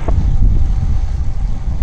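Strong wind buffets the microphone while cycling through mountain country, a steady low roar with gusting swells that runs for the whole short stretch and masks everything else.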